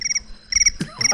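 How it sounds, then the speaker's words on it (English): Crickets chirp in short, regular pulsing bursts, clear and fairly close, with a brief soft thump partway through and no talk over them. "Crickets?"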